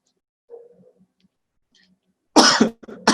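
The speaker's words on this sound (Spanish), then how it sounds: "Es una tos normal por hablar tanto." A person gives a sharp, loud cough followed by a second cough, after a few faint clicks and small rustles in an otherwise quiet room.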